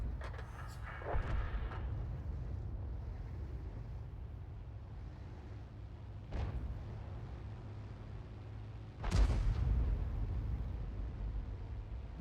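A tank shell firing and exploding in a video game: a few heavy booming blasts spaced seconds apart, rising over a constant low engine rumble.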